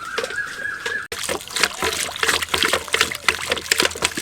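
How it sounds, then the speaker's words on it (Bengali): A wooden hand churner spins through buttermilk in a bucket, producing continuous close watery sloshing and splashing in an uneven rhythm. "তাহলেই দেখবেন ঘুটনিটা খুব সুন্দরভাবে ঘোলের মধ্যে ঘুরবে।"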